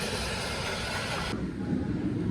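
The Kraken roller coaster train roars past as a broad, steady rushing rumble that fills the space, then thins to a lower, more distant tail as it moves away, with no voices.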